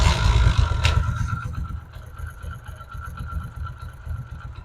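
A repaired motorcycle engine idles smoothly after an engine-noise fix, a steady low rumble with a faint higher hum running throughout and no talk.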